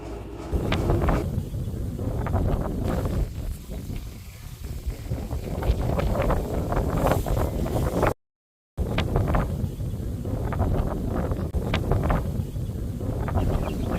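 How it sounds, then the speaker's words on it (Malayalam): Strong wind buffeting the microphone on the Panchalimedu hilltop, a steady loud roar with gusting rumble throughout and a brief dropout midway. "എന്തൊരു കാറ്റല്ലേ ഇവിടെ."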